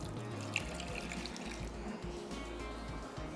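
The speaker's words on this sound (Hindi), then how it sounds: "और इसमें डालेंगे थोड़ा सा पानी।" A little water is poured into donut dough ingredients of egg, sugar, salt and yeast, making a soft, steady trickle with low background hum and no talking.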